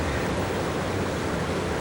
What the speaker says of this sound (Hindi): यार ये झरना तो बहुत डरावना।